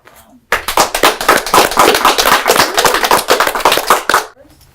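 A poetry slam crowd at Lincoln High School bursts into sharp, dense clapping for a poet after scores are read. The applause starts abruptly, stays loud and steady for about four seconds, then cuts off.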